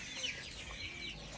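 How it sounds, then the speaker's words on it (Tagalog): Short burst of backyard chickens clucking in their pen, a few close, quick clucks with no talk. "So yung aking mga manok."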